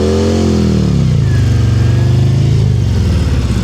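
Motorcycle engine revving unevenly during slow-speed riding practice, a steady close, loud drone whose pitch sinks then holds low with small throttle blips.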